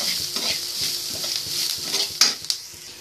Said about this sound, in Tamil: சிம்மில் வச்சுட்டு நீங்கள் கிண்டி விடுங்க